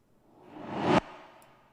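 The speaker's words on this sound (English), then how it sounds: "But we also have a little reverse sound in here." A reversed sound effect in a dubstep track made in FL Studio 20 swells up from nothing into a loud whoosh and stops abruptly, leaving a faint tail.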